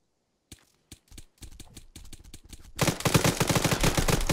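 Rapid gunfire from a GTA video game, starting as a few spaced single shots and building into a loud, dense burst of continuous automatic fire.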